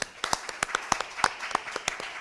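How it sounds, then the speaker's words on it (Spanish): An auditorium audience at a conference applauds with sharp, scattered claps in an uneven rhythm, fairly close and brief. "Ha recibido un fuerte aplauso aquí desde el auditorio"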